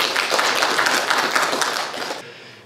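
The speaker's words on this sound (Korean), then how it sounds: "다시 한번 격려의 박수 한번" Applause from an audience at an education forum, a dense wash of many hands clapping at steady loudness, then fading out near the end.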